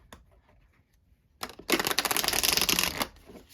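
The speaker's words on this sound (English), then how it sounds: "So let's do a nice shuffle and see how they feel." A Journey Oracle card deck shuffled by hand, a quick riffle of crisp dense card flutter lasting about a second and a half after a few faint taps, close and loud with no talk.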